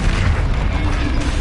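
A Confringo blasting spell going off in a Harry Potter video game, a loud, continuous low rumbling boom that fills the whole moment with dense bass, without any voices.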